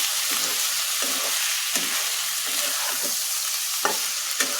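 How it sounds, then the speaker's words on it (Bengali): Chicken frying in oil with chili powder and coriander powder, stirred steadily: a continuous bright sizzle with repeated scraping strokes of a spoon in the pan and a few sharper clinks, close and alone. "দিয়ে ভালোভাবে নাড়াচাড়া করে নিই।"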